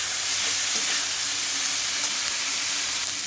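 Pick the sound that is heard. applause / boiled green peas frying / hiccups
boiled green peas frying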